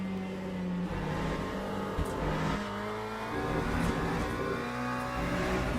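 Race car engine in the Le Mans Ultimate sim, revving and easing off with steady throttle changes, a continuous loud drone with shifting pitch and a faint tire squeal.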